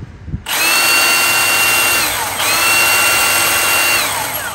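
A Milwaukee cordless power saw whirs steadily at high speed, briefly easing off and spinning back up midway, loud and close, then winding down at the end.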